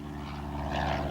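An airplane passing overhead, heard as a short, steady broadband engine drone with a slight swell toward the end, fairly faint and with no voices.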